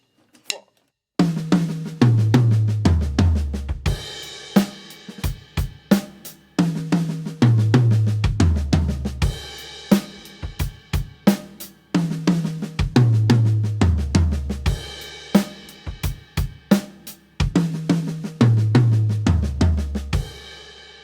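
A drum kit plays a lesson fill built from odd five-note sixteenth-note groupings, with dense rapid strokes across toms and snare and sharp cymbal accents. The pattern repeats in several loud, close bars with no talking.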